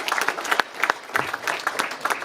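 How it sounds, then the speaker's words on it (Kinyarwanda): Audience members at an FPR Inkotanyi assembly in Rubirizi clap in scattered, uneven bursts, individual hand claps standing out sharply rather than merging into a dense roar. "Mwakwiha amashyi."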